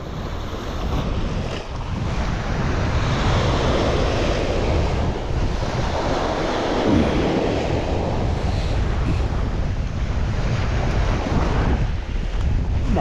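Sea waves washing onto the shore, a continuous loud roar of surf mixed with heavy wind buffeting the microphone, with no talking.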